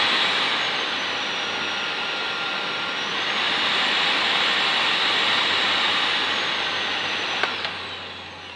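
A 1997 Miele S2511 vacuum cleaner motor runs on its high setting, giving a steady, loud, broadband whine that rises slightly in pitch partway through and continues without pause before a brief click near the end.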